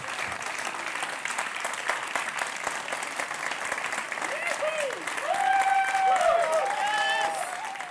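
A gala crowd at the European Youth Award ceremony applauds steadily throughout, a dense, even wash of clapping that swells louder near the end while a voice speaks over it.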